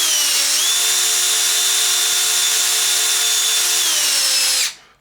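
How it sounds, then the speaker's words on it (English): A power drill whines steadily as it bores out a pin hole in a Traxxas X-Maxx RC car arm, a close, loud high-pitched drone that shifts pitch slightly before spinning down at the end. "I gotta drill this out is what we're doing"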